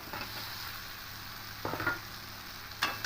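Fried potatoes tumbling into a pan of cooked-down tomato masala for dal fry, a steady soft sizzle broken by two brief louder bursts of stirring and scraping, close and alone.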